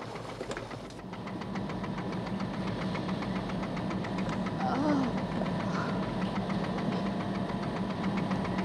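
Ship engines on a liner run with a low, steady rumble and rhythmic knocking throbbing beneath the scene, while people talk over them.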